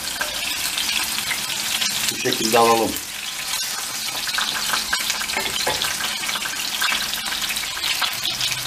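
Vegetables sizzle and crackle steadily in hot oil up close, with a brief scraping of utensils and a short spoken remark.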